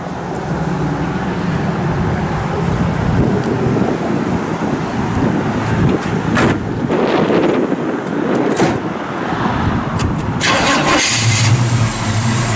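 A 1967 Chevrolet Chevelle SS engine cranks and catches, then idles and revs loudly up close, with some wind buffeting the microphone.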